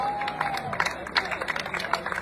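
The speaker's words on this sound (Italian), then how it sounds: "un applauso" Brief scattered clapping from a small crowd at a celebration honouring a 200-marathon runner, moderately loud with a tonal hum running underneath.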